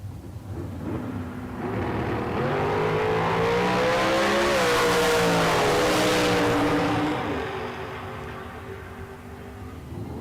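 A drag racing car at a bracket race thunders down the strip, its engine note swelling loud and rising in pitch as it passes close, then fading away into the distance.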